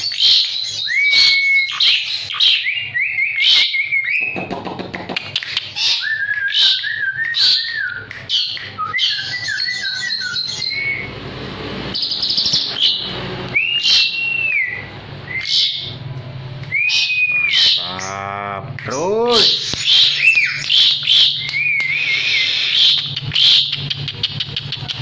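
An Asian pied starling sings a varied, loud run of clear whistles, chirps, warbles and harsh squawks in rapid close-up phrases, with no talking.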